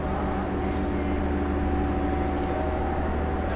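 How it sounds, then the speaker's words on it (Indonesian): The Bogowonto passenger train arriving at a station: a continuous heavy low rumble with a steady mechanical hum, close and even, with two brief hissing bursts. "ini dia untuk rangkaian kereta api Bogowonto"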